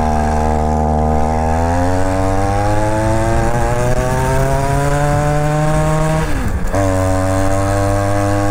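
A two-stroke moped engine buzzes loudly and steadily through a ride, its pitch climbing as it revs, briefly dropping off near the end, then picking back up.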